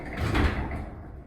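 A Westinghouse hydraulic elevator door slides slowly shut in a quiet car, a brief muffled rumble and thud that fades out.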